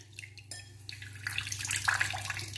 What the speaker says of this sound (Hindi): देखिए, आप देख रहे होंगे पानी निकल रहा है